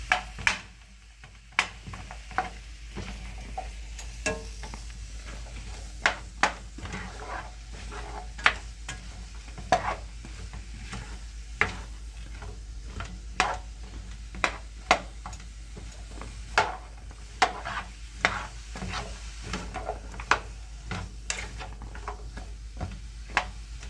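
Hot Italian sausage mixture sizzles in a pan under a continuous low hiss, while a spoon scrapes and clacks against the pan in irregular sharp knocks, close and fairly clear.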